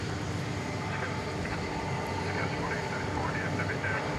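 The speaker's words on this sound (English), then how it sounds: "the next incoming flight from London, flight 81, American Airlines from London Heathrow" An incoming American Airlines airliner, flight 81 from London Heathrow, drones as a steady broadband engine roar at an airport, constant and moderately loud throughout, with voices faintly present.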